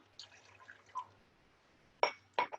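Wine and water poured into a pot for an orange compote during a live cooking demo, heard as faint trickling and dripping followed by two brief, brighter pouring bursts with light glassy clinks.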